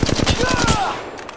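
Rapid automatic gunfire in the mobile shooter Apex Legends Mobile, a close, loud burst of about a dozen quick shots that breaks off into a short ringing tail.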